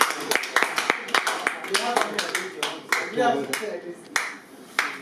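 Audience at an interview session claps for a guest, a quick run of sharp hand claps that starts strong, then thins to scattered, uneven claps close to the microphone, with a voice talking underneath.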